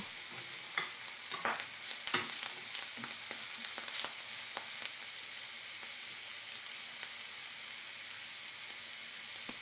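Steady sizzling and crackling of meat and onion frying in a pan, with occasional stirring scrapes early on, fairly quiet and continuous.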